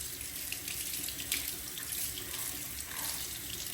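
New makeup brushes rinsed clean of soap under running tap water at a sink, a steady close hiss and splash that continues without a break. No one speaks.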